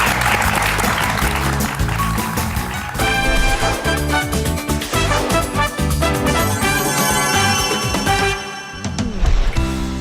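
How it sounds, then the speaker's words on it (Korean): Studio audience applause rises at the close of a televised lecture segment, a steady wash of clapping blended with loud band music that carries through to the end. "다시 한번 큰 박수 부탁드립니다."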